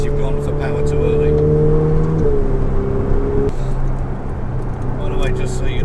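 A Ferrari 488 Pista's engine pulls under partial throttle in a steady, close drone, with pitch stepping as gears change, heard from inside the car.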